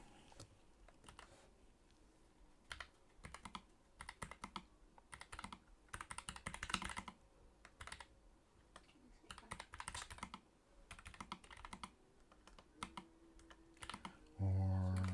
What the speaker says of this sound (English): oh god, my typing is terrible.